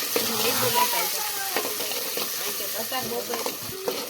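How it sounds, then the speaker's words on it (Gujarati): Onions fry with cumin in a pan while a spoon stirs them, giving a close, steady sizzle with soft scraping strokes and occasional light clinks. "હવે આપણે આને ચમચે કરીને હલાવી નાખવાની"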